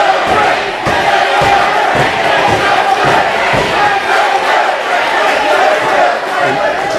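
Wrestling crowd at a Britt Baker vs Katie Arquette match, with an entourage cheering vociferously for Katie; a loud, dense, continuous roar of shouts and chatter with scattered yells throughout.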